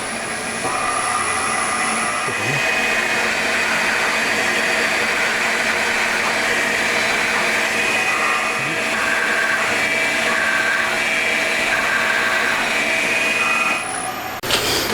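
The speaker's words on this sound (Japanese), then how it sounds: "まずはセンタードリル。" Center drill cutting pilot holes into a homemade DOHC cylinder head on a machine tool, a steady, loud continuous machining drone lasting throughout with no talking.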